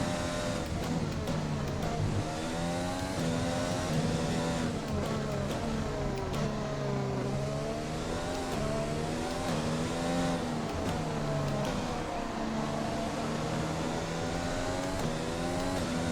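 An F1 race car engine from F1 2020 at Zandvoort whines continuously, pitch rising and falling through gear shifts and corners, loud and steady with no talking.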